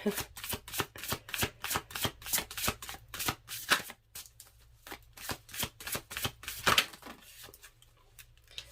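Tarot deck being shuffled by hand, a close, rhythmic series of crisp riffling slaps in quick succession, pausing briefly and then resuming, with no talk over it.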